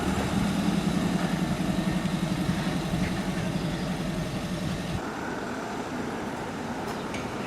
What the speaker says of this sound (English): This good-looking 1977 Triumph TR7 with a 2-litre engine